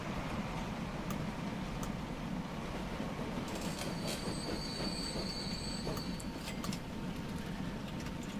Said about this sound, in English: so the train is still there. So let's let it roll